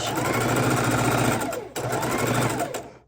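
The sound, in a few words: sewing machine stitching quilt block pieces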